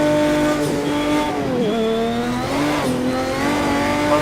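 A turbocharged Porsche race car in a driving video game revs hard, its engine whining at high pitch with rising and dipping tones as it shifts, loud and continuous with no talk over it.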